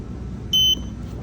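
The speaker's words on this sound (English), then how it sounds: "So I'm gonna hold this down, we're gonna listen for a beep." A door-control receiver for a handicap push-button transmitter gives a single short electronic beep while a button is held down during programming, a steady tone lasting about a fifth of a second over a low background hum.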